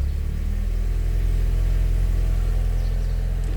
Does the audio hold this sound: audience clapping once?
no